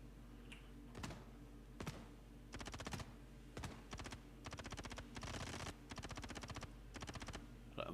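Gunfire in the Star Citizen video game, with single sharp shots followed by repeated rapid automatic bursts, fairly loud and continuous over a low engine drone.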